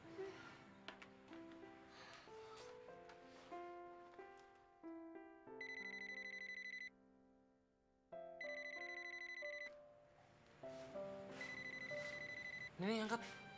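A telephone rings with repeated electronic bell-like trills in bursts separated by short pauses, fairly close, while people talk and background music plays around it.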